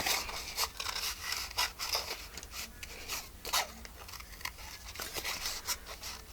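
Scissors fussy cutting around a printed Santa image from paper, a series of soft close snips and rustling paper handling, quiet and irregular.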